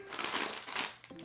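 Filipino snack bag being opened up close, with a brief, quiet burst of plastic crinkling and rustling followed by a short pause.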